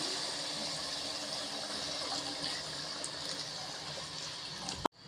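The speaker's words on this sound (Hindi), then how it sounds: "मैंने सिर्फ 1 गिलास ये बड़े वाला इसमें ऐड किया पानी का" A large glass of water poured into a simmering pot of nargisi kofta curry, a steady close rushing and sizzling bubbling sound that runs continuously, ending in a brief clunk.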